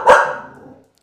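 A single loud, sharp dog bark, close by, quickly fading out.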